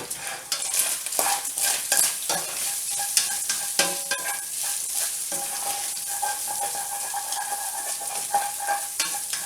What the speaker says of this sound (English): I'm going to saute them in the onions